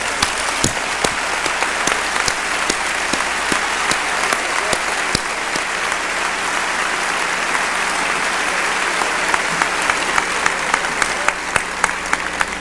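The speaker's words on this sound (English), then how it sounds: "I think this man deserves a lot of applause." Sustained, steady applause from a large audience at a 2001 UPCI General Conference church gathering, dense and even throughout with occasional sharper individual claps standing out, no speech over it.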